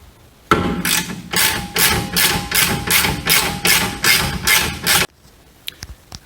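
Ratchet with an 18 mm socket turns a bolt out of a 2015 VW Jetta rear suspension, about a dozen quick rhythmic clicking strokes close up, followed by a few faint metallic taps.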